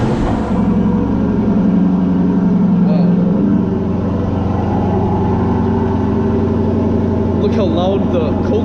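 A Lexus LC 500 engine at cold start, a loud, steady high idle with a deep drone that holds constant throughout, up close, with brief voices near the end.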